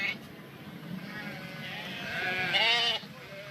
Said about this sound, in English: Invading the sheeps here.